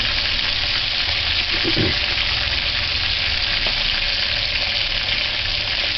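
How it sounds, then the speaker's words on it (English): Fish fries steadily in a pan, a dense, continuous sizzle of hot oil for English-style fish and chips, staying loud and even throughout, with a faint brief knock near the middle and no talking. "So once you flip it, you can't move it. Just allow it to fry."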